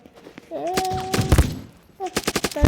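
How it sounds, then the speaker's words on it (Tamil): Gunfire from a shooter video game, with a rapid burst of shots around the middle and another quick volley of repeated shots near the end, heard alongside in-game sound effects. "இந்த கன்று எப்படி அடிக்க டெஸ்ட்டு பண்ணுவோம்."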